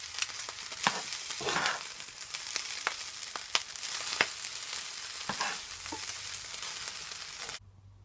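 Shrimp fried rice stir-fried in a pan, a loud continuous sizzle with repeated sharp scrapes and clacks of a utensil tossing and mixing, close up, cutting to quiet at the end.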